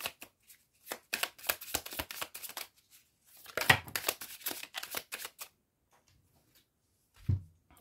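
Tarot cards are shuffled close by in repeated quick riffles of dry flapping and ticking, two flurries separated by a short pause, followed by a soft thump, with no talking.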